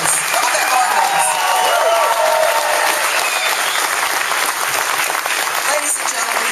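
A live crowd at a music venue claps and cheers together, a loud sustained roar of applause and voices with no break and no single speaker standing out.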